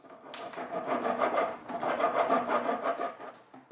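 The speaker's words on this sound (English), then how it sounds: "Use a wood rasp to smooth out the surfaces inside the dado gaps." A wood rasp is worked back and forth over the surfaces inside dado joint gaps, a close, gritty rasping in two runs of quick strokes with a brief pause between them.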